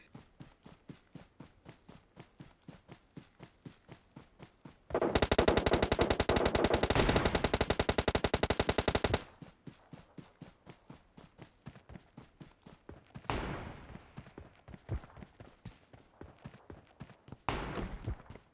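Automatic and rifle gunfire in PUBG Mobile: a steady run of sharp shots through the first five seconds, then a loud dense burst of rapid fire for about four seconds, followed by more spaced single shots and a few louder blasts near the end.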